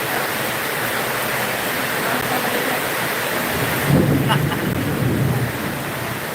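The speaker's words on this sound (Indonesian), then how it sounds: "berhubung petir sudah mulai menyambar, kita tidak berani ambil resiko" Thunder rolls during a storm with heavy rain: a constant hiss of rainfall, then a deeper rumble swells in about two-thirds of the way through and fades, with faint voices briefly audible.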